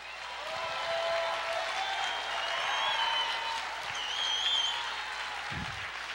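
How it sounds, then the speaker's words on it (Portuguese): A church congregation claps steadily and fairly loudly for about six seconds during a jubilant worship service, with faint voices or tones underneath. "Aleluia, aplauda o Senhor."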